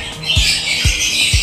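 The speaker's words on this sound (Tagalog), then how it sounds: "Yan mga ibon." Harsh bird squawks fill the air continuously, broken by a few dull low thumps nearby.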